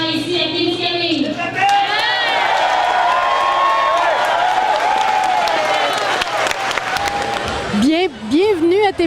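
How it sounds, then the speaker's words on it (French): Loud crowd applause with some cheering at the opening of an IGA grocery store in Témiscamingue, continuing under a voice and sustained musical tones before fading near the end. "je veux une bonne main d'applaudissements pour l'ouverture d'IGA ici à Témiscamingue"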